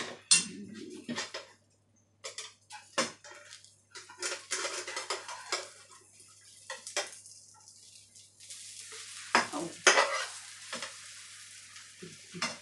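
Omelet frying in a pan while cooking a Thai stir-fried seafood dish with basil, bursts of sizzling broken by clattering of utensils and stirring, uneven and close, with brief pauses.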